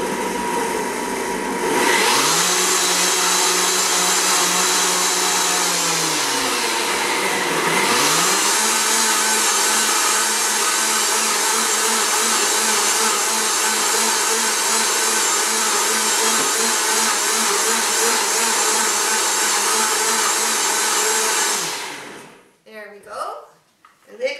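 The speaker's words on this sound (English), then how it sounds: "we're going to put the blend tech on, so it's going to get noisy" A powerful Blendtec blender roars loudly and continuously, dipping in pitch briefly near the start, then whines steadily until it shuts off near the end.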